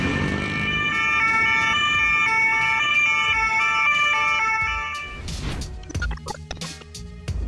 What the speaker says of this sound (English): the sirens are always more convincing